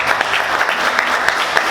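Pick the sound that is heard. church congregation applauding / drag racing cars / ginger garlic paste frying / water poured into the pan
church congregation applauding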